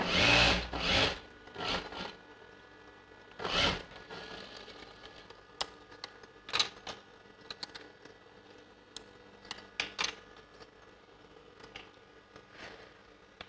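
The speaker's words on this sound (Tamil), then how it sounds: "ஓரமாக தையல் போட்டுக்கிட்டு வரலாம்." A sewing machine runs a seam along the V-neck edge of a blouse in short bursts of rapid stitching, broken up by clicks, handling noises and pauses.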